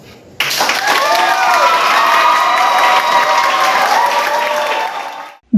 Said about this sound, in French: Des applaudissements et des cris pour accompagner la validation à l'élévation au rang de docteur en sociologie du travail